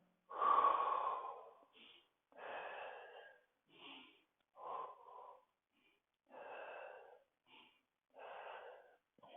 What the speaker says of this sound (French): L'autre côté, 5 respirations.